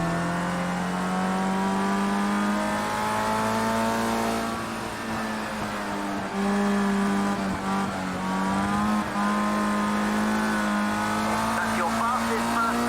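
Race car engine from Project Cars 2 drones steadily, pitch rising and dipping through shifts and braking, with brief tyre squeal, while someone talks over it throughout.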